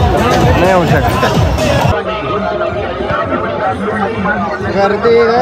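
Festival crowd hubbub at a fair in Chandwad, a dense wash of overlapping chatter with one voice prominent near the start, busy and close throughout.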